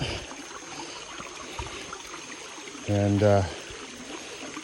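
A spring-fed mountain stream flows through Hidden Canyon near Amed, Bali, a steady close rushing trickle, with a short spoken phrase briefly breaking in.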